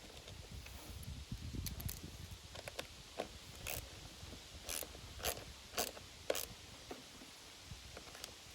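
A ratchet tightening the service bolt on a Toro self-propelled lawn mower, heard as faint, quick clicking bursts in irregular spurts against a low, quiet background hum.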